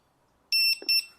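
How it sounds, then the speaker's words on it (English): A Volvo EX30 gives two short, shrill electronic beeps in quick succession, clear and close, with a faint click between them against near silence. "Now it beeps like this."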